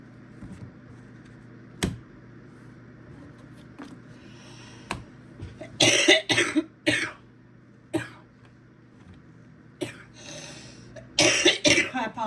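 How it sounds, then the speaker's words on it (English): A person coughs repeatedly in a quiet room, sharp dry bursts coming singly and in tight clusters, with a throat clearing among them and no talk between. "I apologize, I still have my cough."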